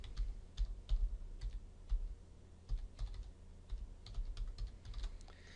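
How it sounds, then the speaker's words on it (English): Quick bursts of typing on a computer keyboard as a dataset name is entered into Stata's command window, irregular clicks of keys under low room noise, with no voices. "now I just need to type the dataset name"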